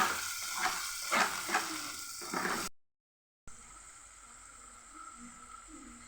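Salted onions sautéing in a pan give a bright, busy sizzle with stirring scrapes, then a short silence before a steadier, quieter hiss continues alone.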